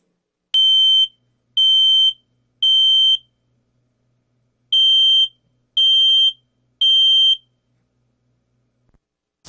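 A fire alarm plays as a loud electronic beeping tone in two groups of three evenly spaced beeps, each about half a second long, with a short silent gap between the groups and no voices.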